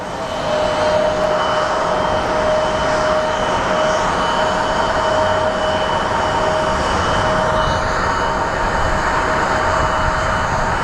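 A Southwest airliner arriving at Phoenix Sky Harbor Airport, a steady, loud jet engine roar with a sustained whine that holds throughout, no voices.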